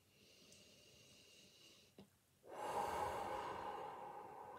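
Deep breathing during a guided meditation: a soft inhale, a brief pause, then a long, fuller breath of air that swells and slowly fades, close and quiet with no talking.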